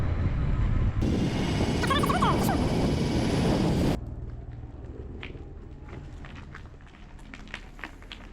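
A Triride accelerates on a road in the Massif des Maures, Var: a loud, steady rush of motor and wind with a brief rising whine that drops away to a quieter rolling sound.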